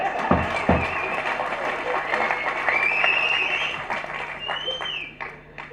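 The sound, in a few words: audience applause and clapping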